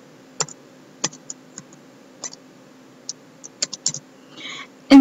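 Typing on a computer keyboard: scattered, crisp key clicks at an irregular pace, a few quick clusters and a brief rattle near the end, close and fairly quiet over a low steady hum.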